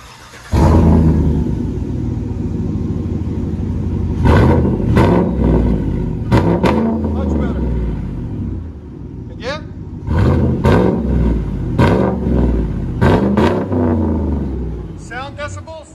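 A supercharged GMC Sierra 6.2L V8 with straight pipes roars through repeated sharp revs, each burst rising and falling over a deep rumbling idle, loud and close, with a brief higher whine between blips.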